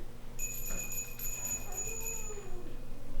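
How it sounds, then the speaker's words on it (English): A bell rings out in a stage production of Macbeth, a sustained high metallic tone held steady for about two seconds, fairly faint against a quiet room. "The bell invites me."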